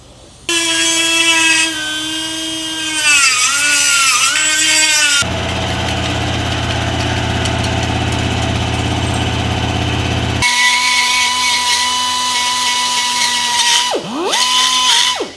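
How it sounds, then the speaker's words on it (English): Angle grinder chamfering a metal gear part during a 1HZ low range reduction gear install: loud, shifting whines with wavering pitch, then a steady harsh grinding roar in the middle, and the whine returning with sharp dips near the end. "we're going to chamfer this bit too with the grinder"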